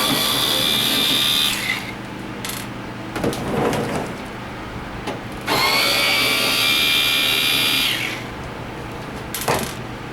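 A power screwdriver whirs in two sustained bursts while backing out the screws on the top cover of a JHS A016-10KR/B1 portable air conditioner, with brief clicks and handling noises between the runs, close and fairly loud.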